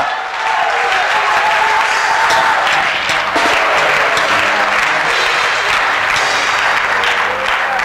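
A seminar audience applauds and cheers for pastors, steady loud clapping filling the room continuously from start to finish.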